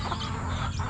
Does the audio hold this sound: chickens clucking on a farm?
yes